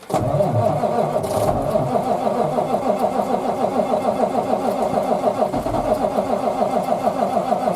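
A small engine cranks in rapid rhythmic chugging, sputtering repeatedly as it tries to start, loud and close, continuing steadily throughout with no clear catch.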